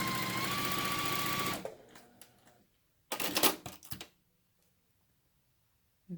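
A sewing machine runs a quarter-inch seam joining the top portion of a quilted mug block, a loud steady mechanical whir for about a second and a half, then a quieter burst of stitching after a pause.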